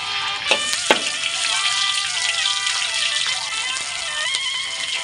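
Pork stir-fried with kaffir lime leaves and curry paste sizzles loudly and steadily in a hot pan, a continuous bright frying hiss with a few sharp pops and scrapes of stirring, no talking.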